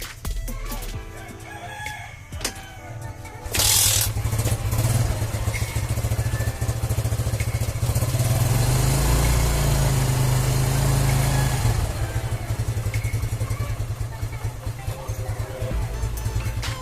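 A motorcycle engine fires up and settles into a steady, loud idle after a rooster crows nearby, the engine's low throbbing rumble running continuously with a brief rise in revs midway.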